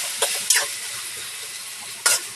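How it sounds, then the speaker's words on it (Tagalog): Shrimp paste (alamang) being stirred into a pan of garlic and onion, giving a steady soft sizzle broken by a few louder scraping stirs near the start and end. "Lalagyan natin ng alamang. 2 kilong alamang. At hahaluin ang bahagya."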